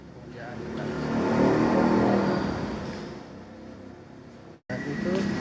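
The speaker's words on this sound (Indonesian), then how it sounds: "Dan itu mobil yang mau keluar" A car rolling out of the Honda Arista workshop in Banda Aceh, its engine swelling and fading nearby amid general garage bustle, with a brief cut near the end.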